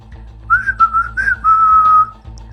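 A short, clear whistled melody of a few bright notes, close and alone over a low background hum.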